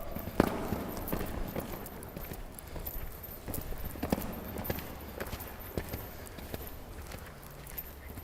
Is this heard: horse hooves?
yes